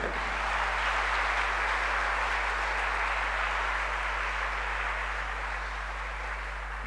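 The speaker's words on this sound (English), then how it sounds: "The clapping can be a little impartial here as well" An audience claps at a culture quiz national final, a steady, fairly quiet patter of applause sustained throughout, with a low electrical hum running underneath.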